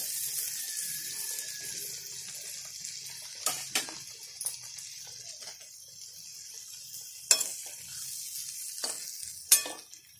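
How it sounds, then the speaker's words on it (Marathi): A gentle, steady sizzle of fried chicken added to gravy in a pan, with a few sharp clinks and scrapes of a utensil against it, no voices. "आता याच्यामध्ये हे चिकन टाकते"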